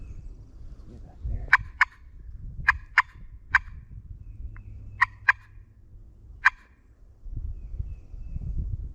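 A wild turkey gobbles repeatedly in the distance, sharp bursts spaced irregularly over a quiet outdoor background with low rumble.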